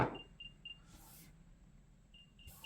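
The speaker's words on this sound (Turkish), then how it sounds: "Kulakta ses çalıyor şu anda" Short electronic beeps from a replica AirPods Pro 2 earbud's find-device alert repeat in a steady pattern, faint and thin, with brief bursts of noise in between and no talking.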